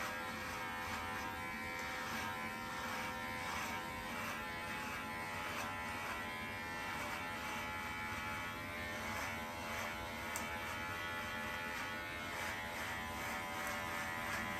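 An electric beard trimmer buzzes steadily and close up while blending the edge of a hairpiece, a continuous high whine with small fluctuations and no break.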